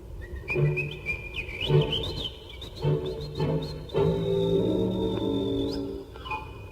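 Someone whistles a cheerful melody, with other sustained tones and soft rhythmic accompaniment underneath; no talking.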